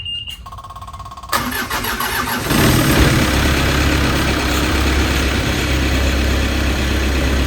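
A boat's marine engine cranks over and catches after winter storage, then settles into a loud, steady, close-up running rumble with no voices.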